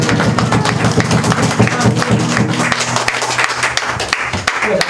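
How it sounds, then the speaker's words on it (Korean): Applause from a lecture audience welcoming a speaker: dense, steady clapping from a room of listeners that fills the whole stretch at an even loudness, with some voices mixed in. "뜨거운 박수 보내주시고"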